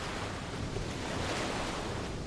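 Open-sea ocean waves surge in a continuous, dense rush with a wind-like roar, steady and fairly close throughout with no voices.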